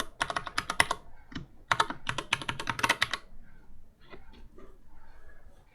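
Fast bursts of clicking keystrokes on a computer keyboard, two quick runs of typing followed by softer, scattered taps, close and clear with no talking.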